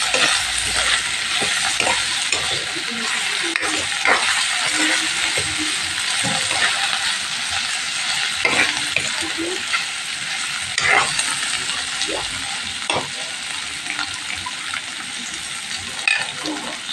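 Onion and tomato sizzle and fry in a pan for a Filipino mung bean dish with tofu, a steady loud crackle broken by scattered clicks and scrapes of stirring, with no talking.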